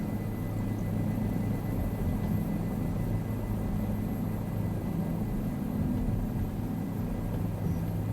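A steady, droning helicopter engine with a constant low rotor rumble, continuous and fairly loud throughout, from Microsoft Flight Simulator 2024 on a flight to Pangong Tso, Ladakh, India.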